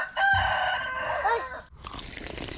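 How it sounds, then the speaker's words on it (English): An outdoor rooster in a rural Philippine province crows once loudly and up close in a long drawn-out call, followed by softer scratchy farmyard noise. "This chicken is digging a hole."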